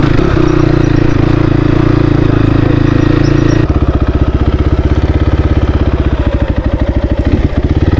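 A Crossfire RM 250 motorcycle engine runs with a steady, loud drone, then drops into a rhythmic, thumping idle as the bike is brought to a stop and parked.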